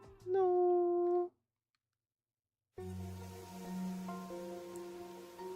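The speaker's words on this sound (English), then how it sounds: "The unending rain." Steady rain patter in the video game Tittigami, a soft continuous wash beneath sustained musical tones, resuming after a brief silence that follows a short melodic passage.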